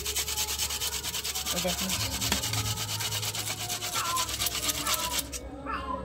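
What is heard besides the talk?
grating finely with a hand grater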